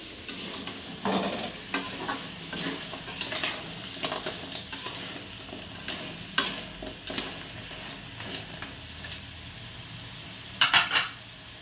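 Potatoes frying and being stirred in a pan for crab curry, with a steady close sizzle broken by scraping and clinking utensil sounds.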